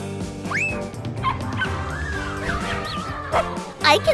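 A puppy playing fetch outdoors gives high yips and whimpering barks, several short cries scattered across the span over steady background sound.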